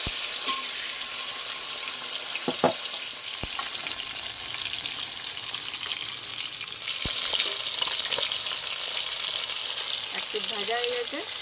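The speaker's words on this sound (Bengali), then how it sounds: "তেলটা গরম হয়ে গেছে, এবার কেটে রাখা মাছ আমি দিয়ে দেবো।" Fish frying in hot mustard oil in a kadai, a loud continuous sizzle close up with a few sharp clinks and brief spatters throughout.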